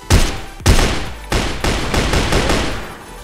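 An FN FAL rifle firing in the video game CrossFire, several loud, sharp shots spaced irregularly, each with a short echoing tail, close and clear with no voices.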